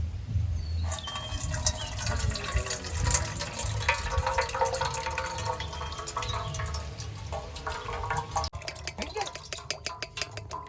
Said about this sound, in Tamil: இப்போ நம்ம இதை வந்து வடிகட்டி எடுத்துப்போம்.